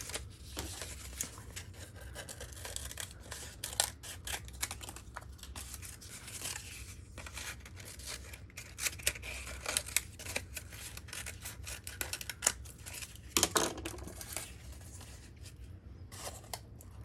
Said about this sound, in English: And then I can take my scissors and trim it.